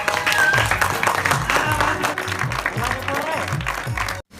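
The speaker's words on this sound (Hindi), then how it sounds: "ओकर लिए जोरदार ताली बजाओ।" Audience applause and cheering for a Chhattisgarhi folk singer at a comedy campaign-rally stage show, loud and continuous with crowd voices and music mixed in, cutting off abruptly near the end.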